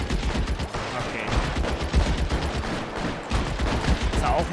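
Rapid gunfire in the video game L.A. Noire, a dense run of sharp repeated shots with no pauses, loud and continuous throughout.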